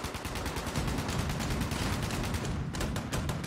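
Heavy sustained automatic gunfire in the video game Fallout 76, a loud, rapid, continuous volley of close shots with a brief dip before the firing resumes, no talking.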